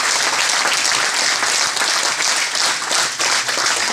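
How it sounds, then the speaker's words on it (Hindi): Loud, vigorous applause from a seminar audience at an RCM business event, continuous dense clapping from many hands close by with no talking over it. "थोड़ा सा दिल खोल के ताली बजाइए।"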